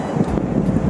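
Strong seaside wind in Hong Kong, a steady low roar with microphone buffeting filling the whole moment, with no voices.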